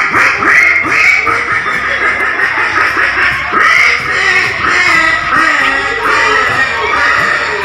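A human voice mimics a startled duck fleeing from a pond's edge after being struck with a stick, giving loud, rapid, nasal quacks in quick repeated bursts close up.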